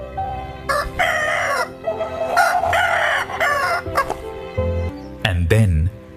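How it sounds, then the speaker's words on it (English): A rooster crows several times in loud, close calls, with fowl clucking and gobbling around it. "They dreamed until the rooster crowed."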